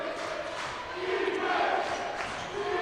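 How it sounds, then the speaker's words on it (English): Crowd at a women's basketball game growing louder as fans chant defense, a dense, steady roar of many voices, fairly distant and continuous. "And now the crowd here starts to get loud, chanting defense."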